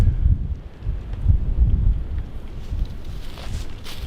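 Gusty wind buffets the microphone with a steady low rumble that swells and eases throughout, with no voices.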